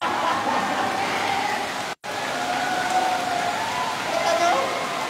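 Rain pours down steadily during an outdoor launch event, a dense hiss that fills the whole clip with a brief dropout near the middle while voices carry faintly underneath.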